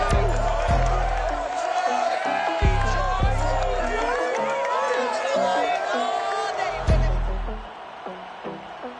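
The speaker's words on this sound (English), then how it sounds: "A good crowd on hand and seemingly ready to go in the Motor City." A large, loud stadium crowd at Ford Field in Detroit, Lions hosting the Ravens in an EA Sports football game, roars and cheers steadily throughout, with scattered whoops and a few deep thuds, under a commentator's voice.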